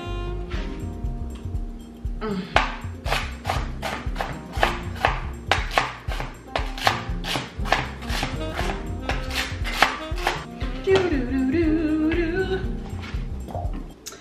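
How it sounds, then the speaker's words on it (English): A knife slicing vegetables on a cutting board in a home kitchen, steady rhythmic chops repeating about twice a second, crisp and close, over faint background music, with a short pause and scraping toward the end. "We ain't doing nothing but slicing them up"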